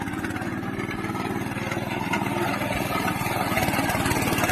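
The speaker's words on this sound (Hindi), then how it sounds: "देसी जुगाड़, देसी बकरनी लौटाने के लिए बहुत जोरदार ट्रैक्टर।" A homemade jugaad tractor built around a 750 cc engine idles steadily nearby, a constant rough chugging drone with no talk.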